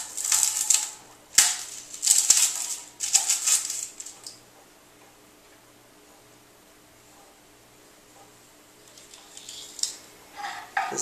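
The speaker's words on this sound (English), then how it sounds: "We're going to start by chopping up our garlic here." A knife chops garlic on a board in a home kitchen while spaghetti and meatballs are being made: a few quick bursts of crisp tapping in the first four seconds, then near quiet before faint chopping returns at the end.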